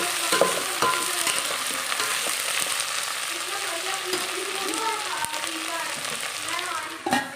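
Mixed vegetables for a soya vegetable pulao frying in a pan, a loud, continuous close sizzle like heavy rain, with occasional faint stirring knocks.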